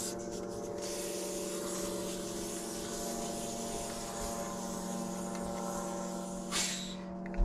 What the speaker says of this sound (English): So I'm going to unscrew the valve.